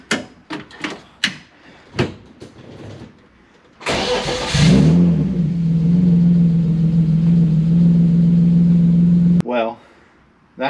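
A BMW E36 engine is cranked on a crank-no-start fault, giving a sustained, even starter-motor whirr for several seconds that never catches, preceded by scattered clicks and knocks and ending abruptly.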